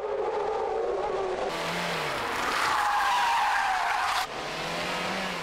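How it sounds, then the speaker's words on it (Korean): A car's tires squeal and skid loudly and continuously for several seconds as it swings through a 180-degree drift into a parking spot on a narrow road, with engine noise underneath and no talking. "타이어 미끄러지는 소리와 함께 정신 차리고 보니 확 돌아간 자동차"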